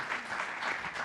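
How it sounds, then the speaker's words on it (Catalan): An audience at a talk on war and diplomacy claps steadily, a dense, even wash of applause that fills the whole moment with no voices on top. "Igualment, mentre agraint-te la teva presència, podem aplaudir"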